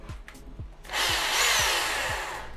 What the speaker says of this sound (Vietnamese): Khoan ra. Này khoan vô.